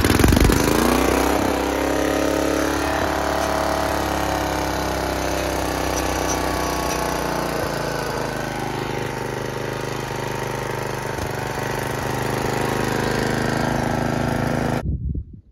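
A Snapper riding mower's engine runs at half choke for about fifteen seconds: a loud, steady, close mechanical roar with a slight sputter near the start, cutting off abruptly at the end.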